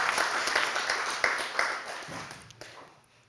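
An audience applauds as speaker Gerd Kjøl is welcomed at a talk on Europe's energy situation. The crowd clapping is dense and fairly close, then thins and fades over a few seconds.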